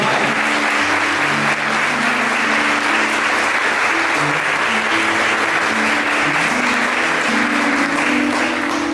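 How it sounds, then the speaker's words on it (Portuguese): A church congregation keeps up loud, continuous applause for several seconds while soft instrumental music plays low beneath the clapping. "Pode aplaudir mais,"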